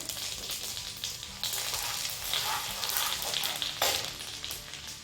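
Cumin seeds sizzle and crackle steadily in hot oil while rava pongal is cooked, a continuous frying hiss with brief louder pops.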